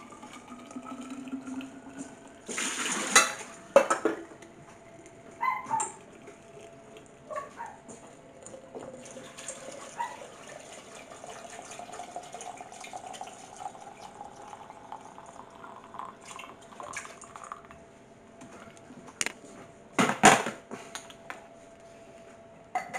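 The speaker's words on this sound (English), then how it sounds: "I'm just going to put some boiling water in it." Boiling water poured into a pre-warmed thermos flask about nine years old, a steady liquid fill rising in pitch as the flask fills, with a couple of sharp knocks or clunks near the start and the end.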